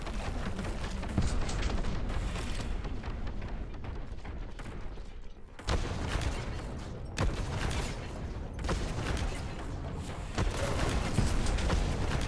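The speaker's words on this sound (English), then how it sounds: "No fucking sound dampener in a goddamn helmet will truly reduce the noise of a fucking Quake cannon going off of 30 feet above your head." A Quake cannon fires in the Warhammer 40,000 Boltgun video game, heavy booming blasts with mechanical clanking amid dense, loud battle noise that continues without letup.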